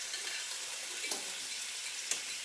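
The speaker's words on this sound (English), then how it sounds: "It is sizzling the delicious kind of sizzle way that we like." Zucchini, onions, garlic and peppers sizzling in a hot pan, a steady bright hiss of frying with a couple of soft stirring clicks, close and continuous.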